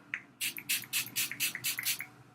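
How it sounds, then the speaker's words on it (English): Rapid hissing bursts from a spray bottle, about eight quick pumps in a steady rhythm, close and fairly loud with a faint low hum beneath. "Take your dewy or luminous setting spray and get ready."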